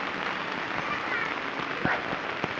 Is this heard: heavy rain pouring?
yes